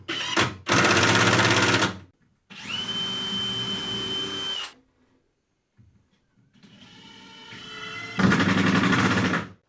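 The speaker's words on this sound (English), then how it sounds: "then I'll drive screws down into the one below" Several bursts of a power driver sinking screws down into a wooden shelf on a miter saw station, with loud runs of a few seconds each and short pauses between them.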